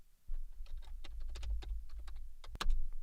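Rapid keystrokes on a computer keyboard enter a PowerShell command, a close, irregular patter of clicks with a louder double tap near the end.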